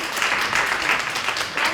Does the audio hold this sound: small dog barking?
no